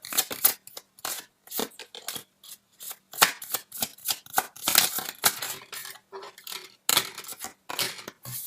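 Tarot cards are shuffled close by in rapid, uneven bursts of sharp riffling and flicking, the papery snaps coming in clusters separated by short gaps.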